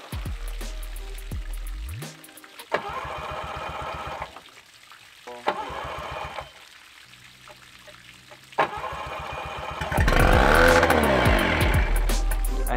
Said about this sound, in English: the motor did start up, but it had a huge throttle at the start, which made the motor incredibly loud